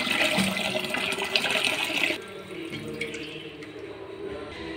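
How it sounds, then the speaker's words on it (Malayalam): Water runs from a household pipe into a vessel for cooking rice, a loud steady gush for about two seconds that then drops to a quieter trickle and drip with no speech. "അപ്പം നമ്മൾ ചോറിനുള്ള വെള്ളം എടുക്കുകയാണ് കേട്ടോ."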